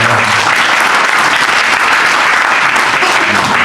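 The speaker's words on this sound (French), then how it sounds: "Bon, on peut l'applaudir, notre champion." A crowd at an auto-cross club's general meeting applauds their champion, loud, close, dense clapping that continues unbroken for the whole stretch.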